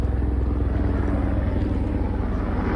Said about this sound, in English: Guess they sent the rescue chopper ahead of time.